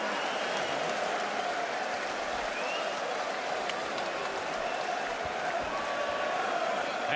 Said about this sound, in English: Tszyu being acknowledged by the crowd now